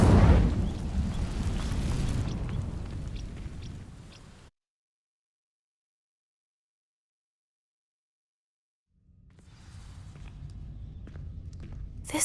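The Incendio fire spell in Hogwarts Legacy sets dry vines alight with a loud whooshing burst that roars and slowly fades, followed by a stretch of total silence, then dull steps and rumbling as the scene resumes.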